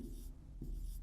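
Hand writing on paper during a Class 10 English lesson, a soft continuous scratching of pen strokes lasting about a second, close and quiet with no voice.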